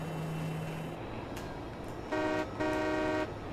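A horn blast from a train in Farming Simulator 22, sounding as two sustained, fairly loud tonal honks one after the other, layered over steady engine rumble and background game ambience.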